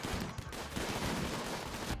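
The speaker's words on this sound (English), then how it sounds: "I think the turrets have opened fire now" Turrets open fire on raiders in the video game Rimworld, a quiet, dense rattle of rapid gunshots that blur into continuous fire.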